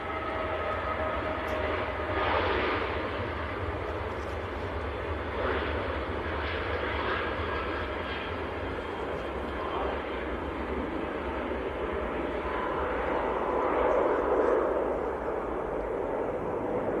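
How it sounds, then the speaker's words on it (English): A Ryanair Boeing 737-800 departs Manchester Airport bound for Lisbon in freezing weather, its jet engines a steady, fairly distant roar that holds evenly throughout with a slight swell near the end. "This is Ryanair to Lisbon down in Portugal, 737-800."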